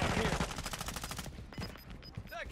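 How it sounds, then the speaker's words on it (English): Rapid automatic gunfire in the Call of Duty: Warzone 2.0 video game, loud and dense through the first second and a half, then sparser shots with brief electronic game tones. "I'm being shot from southwest by a different person"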